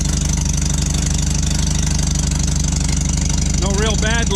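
A tractor engine idles with a steady, pulsing low rumble, its new exhaust leaking, heard up close; a voice speaks briefly over it near the end.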